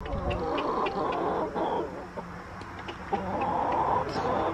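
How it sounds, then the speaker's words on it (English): Backyard chickens clucking in a yard, a steady, moderately close chorus of overlapping clucks and short calls with no talking. "We have nice chickens."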